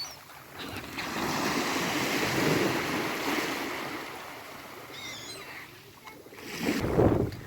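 Steady wash of Black Sea surf rolling in at Odesa in January, with wind buffeting the microphone and a louder wave surging near the end.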